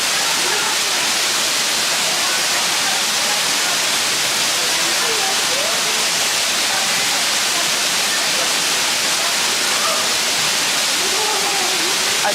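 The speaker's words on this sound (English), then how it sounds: "the waterfall is pretty loud" A loud waterfall beside a hiking trail roars as a continuous, broad rushing wash of water. It fills the whole scene, and a voice is faintly audible underneath.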